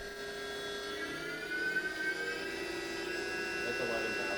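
Haas 4-axis vertical machining center spindle ramping up toward 11,000 RPM, a steady high whine with rising tonal lines, sustained throughout while someone speaks over it.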